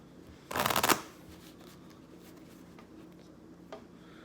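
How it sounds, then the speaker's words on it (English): A blackjack dealer reshuffles a deck of playing cards in one quick, close riffle lasting about half a second. The room stays quiet afterward, broken by one soft tap. "I've shuffled all the cards."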